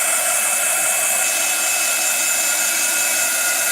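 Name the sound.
heat tool drying mixed media texture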